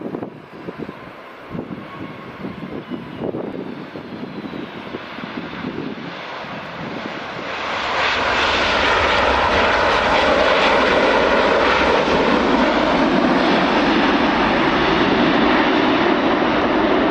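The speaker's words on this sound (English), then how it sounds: "here is another Ryanair 737 MAX 8200 arriving from" A Ryanair Boeing 737 MAX 8200 jet arrives at Edinburgh Airport on a summer evening, its engine roar building from a moderate rumble to a loud, steady, broadband roar as it passes close, with some wind buffeting on the microphone.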